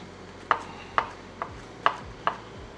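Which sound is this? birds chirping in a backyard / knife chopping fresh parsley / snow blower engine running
knife chopping fresh parsley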